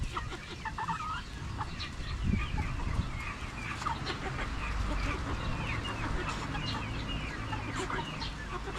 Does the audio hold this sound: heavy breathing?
no